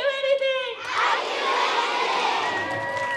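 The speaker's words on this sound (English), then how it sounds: "Thunderous applause followed the Queen's remarks." Students at a school event for Queen Azalea's visit break into loud, sustained applause mixed with cheering and crowd noise, right after a short burst of children chanting in unison.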